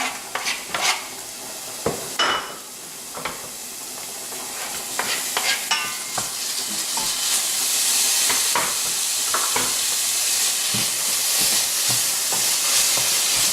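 Onion and bacon frying in a hot pan: a steady, dense sizzle that swells louder over time, broken early on by scraping stirs and utensil clicks, with no talking.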